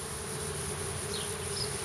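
A clump of swarming honeybees hangs outdoors, giving a steady low buzzing hum with a couple of brief passes of individual bees nearby.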